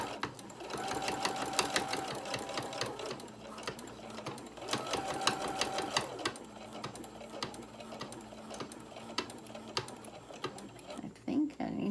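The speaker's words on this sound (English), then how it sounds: "I'm going to slowly start top stitching right along the edge," A sewing machine top stitches along the edge of a small tote bag, running in two steady rapid bursts with quieter pauses and handling noise between.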